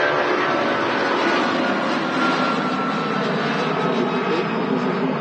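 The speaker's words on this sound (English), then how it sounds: "Kicking the show off in style with a Jet2 757." A Jet2 Boeing 757 airliner at Manchester Airport, its jet engines giving a loud, steady, close roar that holds without a break, with no talking heard.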